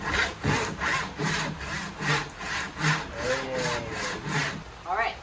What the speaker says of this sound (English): finished sawing the bottom beam